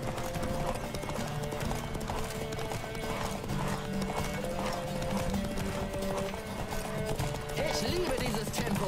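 Rhythmic hoofbeats of a horse galloping steadily in The Witcher 3: Wild Hunt, with occasional whinnies over a dense game soundtrack and a voice talking intermittently.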